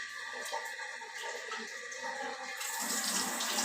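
Water gushes steadily from a hand jet spray in a newly fitted bathroom, a continuous close hiss that grows louder and brighter in the last second.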